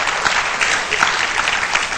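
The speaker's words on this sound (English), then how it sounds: "I wasn't actually looking for applause." An audience at a talk on scalar energy products bursts into a brief spell of dense, even clapping, loud and close, with no speech over it.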